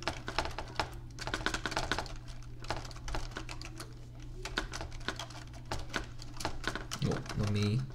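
Rapid, steady typing on a computer keyboard while filling in a spreadsheet worksheet, dense clicking keystrokes close to the microphone with a constant low hum underneath and a brief voice near the end.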